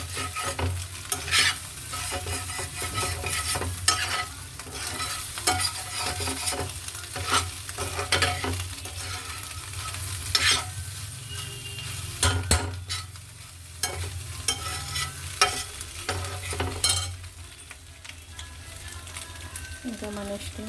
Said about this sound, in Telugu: ఇది ఇంకా బాగా వేగాలంటే సిమ్లో పెట్టి మళ్ళీ కొంచెం నూనె వేస్తే బాగుంటుంది